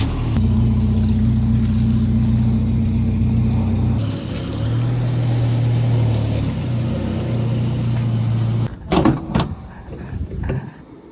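A Volvo 240 wagon with a finicky power steering pump idles with a steady low engine hum, then shifts tone as it pulls over and settles, ending with a few clunks and knocks.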